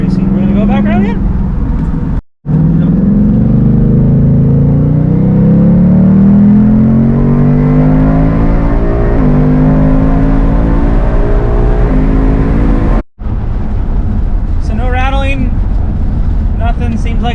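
A 2020 Mustang GT Performance Pack on BMR lowering springs drives past and accelerates, its loud engine note rising steadily through the gears with two brief dropouts, and people talk over it near the end.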